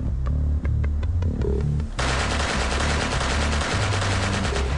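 The SWORDS remote-controlled wheeled combat robot fires its mounted weapon in rapid automatic bursts, loud and sharp, with the rattle thickening into a dense sustained volley partway through.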